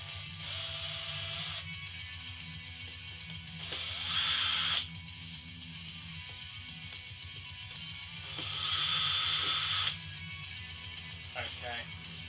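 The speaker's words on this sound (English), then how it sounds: "I'll remove the screws from around the outside of the speaker that I don't want." A power screwdriver or drill whirs in two loud bursts while backing screws out from around the outside of a speaker enclosure for a quad box build, with quieter handling noises between.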